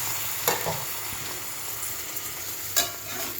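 Rice frying in a pan with vegetables, ginger, cumin, chilli and turmeric, giving a continuous close sizzle broken by two brief scraping stirs.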